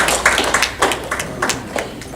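Audience clapping at an alumni awards banquet and sports hall of fame induction, a thin scattering of separate hand claps in a loose, uneven rhythm, moderately close.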